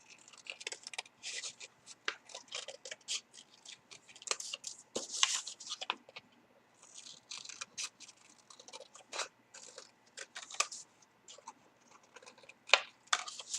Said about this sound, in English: And then you cut those out.